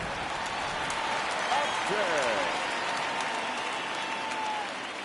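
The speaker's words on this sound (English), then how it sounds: "the home crowd is absolutely eating this up" A home crowd in the baseball video game MLB The Show 19 cheers and applauds in a steady, dense roar that swells slightly mid-way before easing off.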